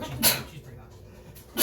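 A person sneezes twice, two sharp, loud bursts near the start and at the end, with a short stretch of quiet speech from a tabletop roleplaying game session between them.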